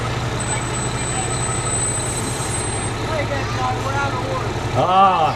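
Fire department trucks from the Linesville Fire Department rolling past in a parade, a steady low engine rumble with a faint high whine, under outdoor crowd murmur and an announcer's voice, with a brief horn-like burst near the end.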